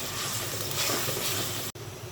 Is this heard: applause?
no